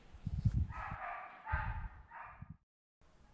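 A hunting dog barks during an end-of-season boar hunt in the woods, with several quick yelping barks in bursts that sound faint and distant.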